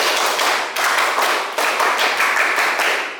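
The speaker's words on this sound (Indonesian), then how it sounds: "Tepuk konsentrasi." A classroom of students claps in unison in a rhythmic concentration pattern. The loud group claps come in quick, evenly spaced bursts that repeat for several seconds.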